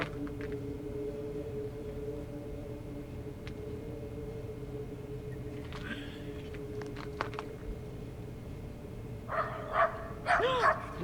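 A small dog barks a few times in the woods, sharp yips and barks bursting near the end over steady outdoor background noise with a low hum.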